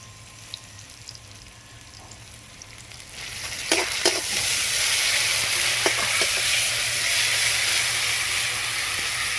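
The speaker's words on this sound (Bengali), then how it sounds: "পেঁয়াজটা আমার ভাজা হয়ে গেছে, এর মধ্যে আমি আদা রসুন বাটা 2 চামচ দিয়ে দেব।" Sliced onion sizzles in hot oil, then ginger-garlic paste goes in and the frying swells into a loud, steady hiss with a few sharp spits and stirring scrapes.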